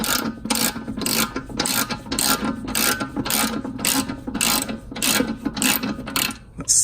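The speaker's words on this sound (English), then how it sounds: "now just go ahead and remove the nut" Hand ratchet loosening a 17 mm nut on the air strut of a W220 Mercedes S430, a close, loud, steady clicking in a regular back-and-forth rhythm of about a dozen strokes, with no talking.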